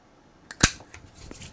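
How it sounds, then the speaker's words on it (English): Paper scraps are punched with a hole punch to make hole reinforcers, giving a single sharp, close crunching snap with a few faint clicks around it. "on one of my scraps, I'll punch the hole reinforcers, which is 2/4 inch holes punched and then 2 3/4 inch holes punched"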